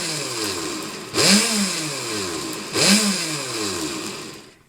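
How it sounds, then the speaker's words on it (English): Blender on its pulse setting grinding a large batch of homemade Holi powder, two loud whirring bursts that spin up and wind down, with a steady motor hum between them. "we're just going to hit the kind of pulse setting here and kind of spin it up"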